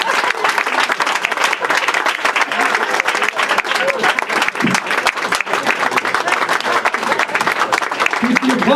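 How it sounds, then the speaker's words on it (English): A comedy club audience applauds a comedian after his set, dense, loud and sustained clapping from a crowd with a host's voice in the mix. "Keep the applause going for John Hollywood."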